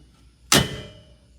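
A single sharp metallic clack of a Jeep Wrangler JK tube door latching shut, close and brief, followed by a short fading ring.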